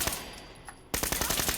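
Gunfire from a Glock pistol in Fallout 4: a quick burst of rapid, sharp shots, then a pause and another dense volley of closely spaced reports.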